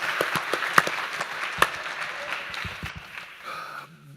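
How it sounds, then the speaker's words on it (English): A theatre audience at a live summit applauds two guests, a thick stretch of clapping with a few sharp, close claps standing out before it thins and tapers off. "let's get one more round of applause for both Josh and Vern"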